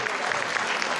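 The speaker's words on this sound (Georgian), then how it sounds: "ამისთვის აპლოდისმენტები კიდევ ერთხელ თქვენ შვილებს ვიფასო სტუმრებო" An audience at a Georgian charity telethon on Stars TV claps steadily in a dense, close burst of applause that lasts the whole moment.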